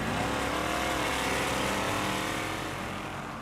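A race car engine roars loud and steady as it accelerates down a drag strip on a converted runway in Gimli, the pitch climbing, then fading slightly near the end.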